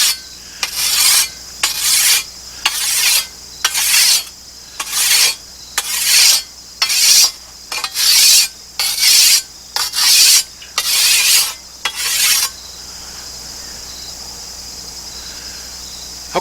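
A file rasps in rhythmic back-and-forth strokes across the bevel of a hand weeding tool blade being sharpened, about a dozen close, loud scraping passes in steady rhythm, then quiet.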